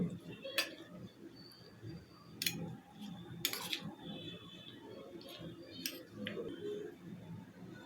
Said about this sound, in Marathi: आता हे व्यवस्थित मिक्स करून घेऊया